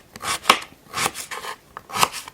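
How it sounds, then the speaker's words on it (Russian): A knife cuts a carrot into half-rings in a village kitchen, giving several crisp, close chops at an unhurried, fairly even pace with no talking. "Ну вот такими дольками буду резать. Полукольцами, я бы сказал, да?"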